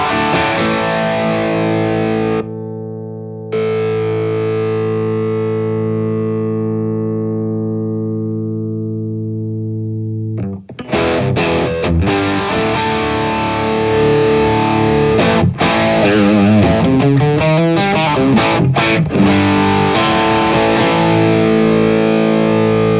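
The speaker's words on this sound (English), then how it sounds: "Let's go with the Tubescreamer first, and we'll kick on the breadboard." An electric guitar through a Tube Screamer overdrive pedal plays a long held chord that slowly fades, then breaks into a busy, gritty riff with sustained distorted notes.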